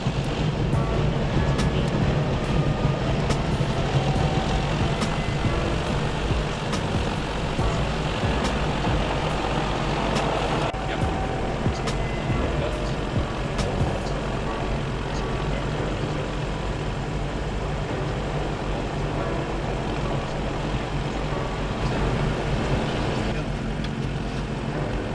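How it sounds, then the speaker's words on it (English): A Diamond DA40 light aircraft runs up its engine at Stockholm-Västerås airport, a loud, steady propeller drone that holds for the whole stretch, with faint talk underneath. "Here we are performing an engine run-up."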